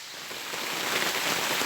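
Heavy rain pours down in a dense, even hiss, close and loud throughout.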